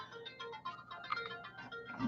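A phone ringtone plays, a faint melodic electronic chime repeating in short pulses indoors, alone without talk.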